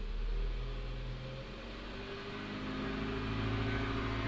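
A 2017 Hyundai Elantra engine, just after timing system repairs, revs up steadily from idle, a continuous close mid-pitched motor drone that holds loud throughout without voices.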